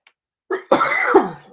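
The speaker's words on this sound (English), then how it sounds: "I know I'm going to be coughing this whole morning" A single close cough from someone with allergies, a short harsh burst with a second push, after a brief silence.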